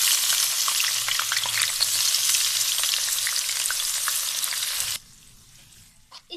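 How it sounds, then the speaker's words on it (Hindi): Onions sizzle loudly in a cup of hot oil in a kadhai, a dense, crackling frying hiss close up that holds steady for about five seconds, then cuts off to quiet. "मैंने एक कढ़ाई में 1 कप ऑयल लिया है, इसमें हम प्याज डाल देंगे"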